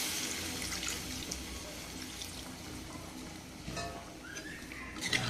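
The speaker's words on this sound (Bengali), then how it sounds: "এবারে আমি জলটা দিয়ে দিচ্ছি ঝোল তৈরি করার জন্য" Water pours steadily into a pot of hilsa fish curry with bottle gourd and potato, a continuous splashing stream with faint background noise and no talk.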